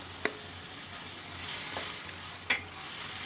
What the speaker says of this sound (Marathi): स्लो गॅसवर आपण ही भाजी करणार आहोत.